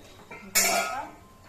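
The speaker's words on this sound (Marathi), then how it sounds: "आता हे झाकण काढले." A metal lid is lifted off a cooking pot of simmering tomatoes, chillies and garlic, giving one sharp close clank that rings briefly and fades.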